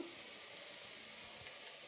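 Food sizzles in a pan on a home stove, a soft, even frying hiss that runs quietly and without a break.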